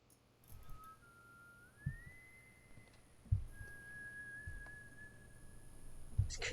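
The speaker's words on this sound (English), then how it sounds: "There's creepy whistling going on in the background." Faint, eerie whistling in the horror game Remothered: Broken Porcelain: long, slowly rising held notes drifting in the quiet background, punctuated by soft low thumps.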